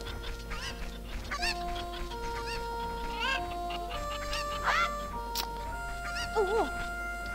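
Chickens cluck and squawk in The Legend of Zelda: Ocarina of Time, several short rising calls repeating over steady background game music with a low hum, no voices over them.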